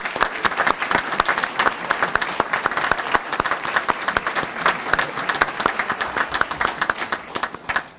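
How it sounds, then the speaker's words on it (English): A crowd at a volunteer fire and rescue association awards ceremony gives a big round of applause, dense lively clapping with individual claps standing out, sustained for several seconds before tapering off. "Let's give them a big round of applause."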